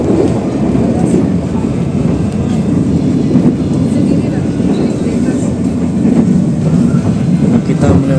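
A passenger train rolls along a sharply winding track near Paguyangan station, heard from inside as a loud, continuous rumble and rattle of wheels on rails with faint clatter throughout.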